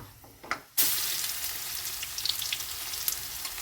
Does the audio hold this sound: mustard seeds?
yes